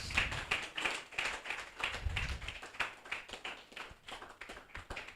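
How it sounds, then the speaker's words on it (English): Audience clapping at a training event, a sustained round of many hands clapping in loose rhythm, fairly quiet and distant, with no voices standing out. "Can we keep clapping, please?"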